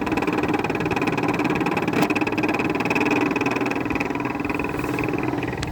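A 2000s Whirlpool air conditioner with worn fan bearings runs on its high fan speed, giving a loud, constant whirring drone with a rough mechanical rattle.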